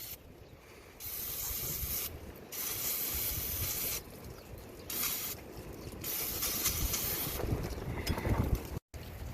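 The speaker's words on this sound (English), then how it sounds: "Just clean it up with a little bit of brake clean, real good" Brake cleaner is sprayed onto a part outdoors in a series of hissing bursts, several sustained sprays separated by short pauses, fairly close and in the open air.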